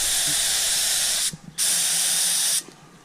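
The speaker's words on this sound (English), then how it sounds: "I'm gonna sort of spot spray some of these weld spots here" An aerosol spray can spot-painting weld spots on harvest equipment, with two loud steady hissing bursts of about a second each separated by a brief pause, close by.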